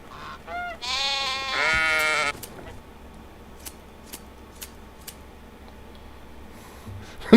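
Sheep bleating in the video game Medieval Dynasty, a few wavering calls close together near the start, followed by quieter ambient game sounds with faint soft clicks.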